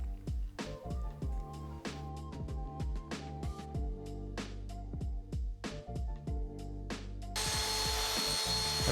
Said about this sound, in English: I'm cutting this 1/4 inch plywood for the vanity back